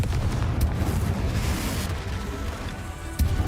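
Blasts from the Confringo curse in Hogwarts Legacy: a loud, continuous low rumble of explosions, with sharp bursts near the start and again near the end.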